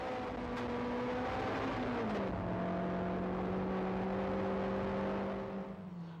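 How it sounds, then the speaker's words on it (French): Rally car racing along a forest stage course as picked up from the front bumper, a loud engine drone that shifts pitch and drops between gears, with steady road and wind roar throughout. "Et là, on est à bord sur le pare-choc avant de la voiture de Luc Brunet"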